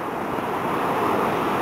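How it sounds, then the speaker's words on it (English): Large ocean waves surge onto a beach with strong rip currents, a steady loud roar of breaking surf filling the whole stretch, with some wind buffeting the microphone. "we're going to wait for one of these other big waves to come in"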